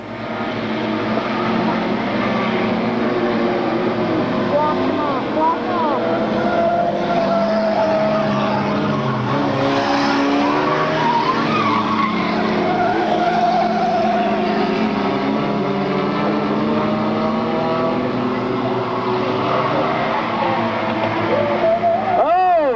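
Race cars circling a track during a 1997 radio DJ racing event, a continuous loud blend of engine drone and tire noise with rising and falling pitch sweeps as cars pass, under steady crowd and track ambience.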